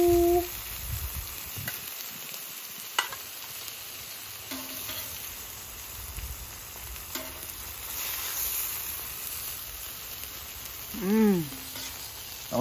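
An onion smashburger sizzles and crackles steadily on a very hot Camp Chef flat top griddle, close and loud, with occasional scraping from a spatula; no talking.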